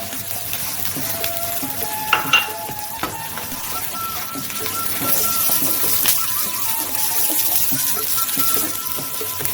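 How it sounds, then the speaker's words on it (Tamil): Onion and ginger garlic paste hitting hot oil in a pan for a Tamil crab curry, a low steady sizzle broken by a few sharp clinks and stirring scrapes, fairly close. "வெங்காயம் போடுறேன். இஞ்சி பூண்டு பேஸ்ட் போடுறேன்."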